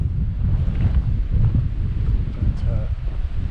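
Strong wind gusts across open moorland on Dartmoor, buffeting the microphone with a steady, loud low roar throughout.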